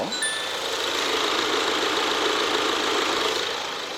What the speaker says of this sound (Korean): 상당히 규칙적이고 정숙하고 조용한 엔진음을 들려주고 있습니다